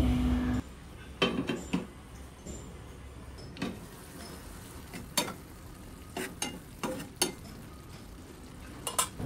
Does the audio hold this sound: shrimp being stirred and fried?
yes